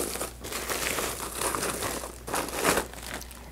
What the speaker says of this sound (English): Take out the packaging.